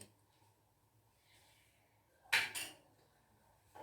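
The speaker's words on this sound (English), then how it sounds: "I'm just going to mix it." A single brief scrape of a spoon against a metal pot of tomato soup, close and sharp, breaks a quiet background hum.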